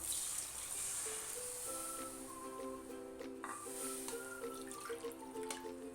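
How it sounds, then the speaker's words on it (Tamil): Water being poured into a pan of hotel-style plain salna as it cooks, a steady running and trickling wash with faint tonal ringing from the vessel, close and continuous throughout. "இப்போ இந்த ஸ்டேஜில் சால்னாக்கு தேவையான அளவு தண்ணி சேர்த்துக்கலாம்."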